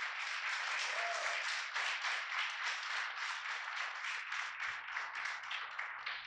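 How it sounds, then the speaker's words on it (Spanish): A church congregation claps together in a sustained, rhythmic round of applause at fairly low level, with the clapping slowly thinning toward the end. "Démosle un aplauso al Señor en esta mañana."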